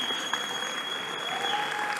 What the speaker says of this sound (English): Maybe the technical team need your applause to put the demo on the screen.